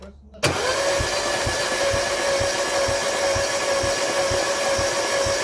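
A Mini One 1.4 75bhp engine with no compression on cylinder 4 cranking on the starter during a compression test, a loud steady whirring drone that kicks in abruptly and continues with rhythmic low thumps, no voices.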